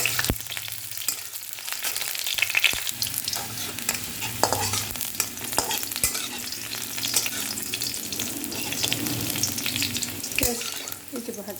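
Prawns, potato and vegetables fry in a pan with onion and broken dried chilli, a steady close sizzle broken by repeated sharp scrapes and clanks of stirring throughout, with no talking.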